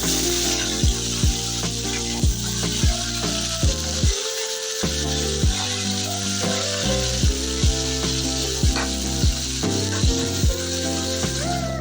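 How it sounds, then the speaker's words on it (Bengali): Prawns and bata fish frying in mustard oil in a kadai, a steady bright sizzle running under loud tonal background music for the whole stretch. "চিংড়ি আর বাটা মাছটা এরকম লাল করে ভেজে নিচ্ছি বন্ধুরা"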